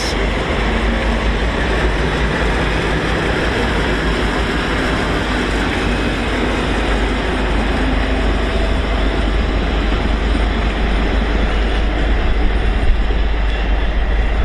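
Freight train with class 56 locomotive 56091 passing at Doncaster or Peterborough on the East Coast Main Line, a loud continuous rumble of wagons rolling by close up, steady throughout with faint wheel clatter.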